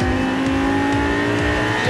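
A Lamborghini LP560 on the Frontange race circuit, engine pulling hard under acceleration, a loud, steady, close roar with rising harmonics that fills the whole moment, no voices.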